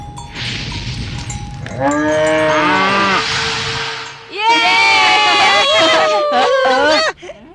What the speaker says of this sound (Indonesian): Sapi-sapi itu dalam bahaya.